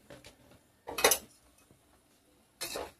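Katla fish pieces are mixed with turmeric, chili powder, coriander powder and salt, giving two short bursts of close clattering against a dish amid quiet pauses, with no voices.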